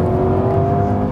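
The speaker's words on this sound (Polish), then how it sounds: "Zobaczcie, ja mu daję gazu" Alpine A110S sports car engine revving hard as the driver accelerates, a loud, close, steady mechanical drone with a sharp rise at the very end, no talking.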